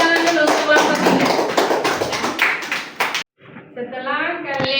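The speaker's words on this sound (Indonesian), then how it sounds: "Tepuk tangan dulu untuk kelompok 3." Applause from a classroom group greeting the third student team, a dense burst of clapping that fills the first three seconds before cutting off, followed by a teacher speaking.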